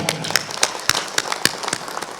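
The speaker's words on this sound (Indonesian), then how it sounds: "Tepuk tangan untuk kita semua" Applause at an installation ceremony for Democratic Party provincial officials in Riau, a dense, sustained clapping crowd with sharp individual claps standing out, steady and fairly loud throughout.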